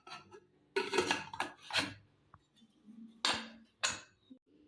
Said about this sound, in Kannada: ಕುಕ್ಕರ್ ಮುಚ್ಚಳ ಮುಚ್ತಾ ಇದ್ದೀನಿ.